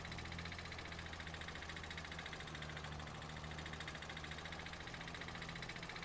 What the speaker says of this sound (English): It is funny having this little tractor going through here.